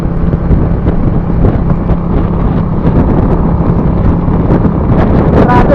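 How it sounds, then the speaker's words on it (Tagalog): Strong coastal wind roars continuously against the microphone at a seaside boulevard in Camarines Norte, a heavy low rumble with gusty surges and no pause. "Ang lakas ng hangin kaya ang lakas ng alon."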